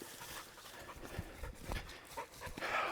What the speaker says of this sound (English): our Honey dog. That goofball right there